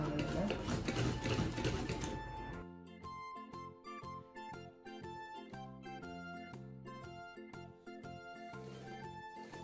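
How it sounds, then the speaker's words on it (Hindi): A sewing machine stitches the fabric of a baby frock in rapid mechanical bursts with brief pauses between runs, loud and close, with someone speaking Hindi at the start. "अब हमने इसको इधर से भी सिलाई कर देना है। ये अब सिलाई होने लगा"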